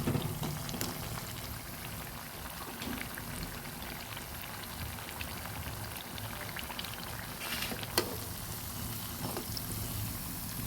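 Pumpkin leaf rolls deep-frying in hot oil, a steady dense crackle and bubbling sizzle running evenly throughout with a few slightly sharper pops, close and alone without talk.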